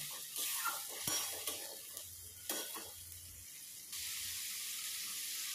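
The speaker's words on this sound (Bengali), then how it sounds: "একটু করে জল দিয়ে আমি মশলাটাকে কষিয়ে নেব।" Masala spice paste for a katla fish curry being stir-fried in a pan with splashes of water, giving a steady sizzle with a few stirring scrapes and a louder steamy hiss toward the end.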